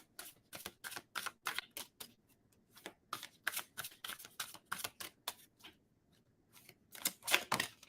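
Quiet, close riffling of a tarot card deck, rapid papery flutters in bursts with short pauses between shuffles, no one speaking.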